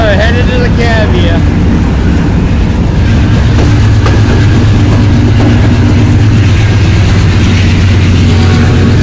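Freight train rolling on rails, heard from aboard while train hopping: a loud, close, continuous rumble with metallic screeches and clattering, with a voice partly mixed in.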